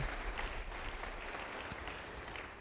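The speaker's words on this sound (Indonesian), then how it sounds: "Yang percaya beri tepuk tangan yang baik bagi dia" Faint, distant clapping from a church congregation carries on steadily for a couple of seconds, low in level with no voices.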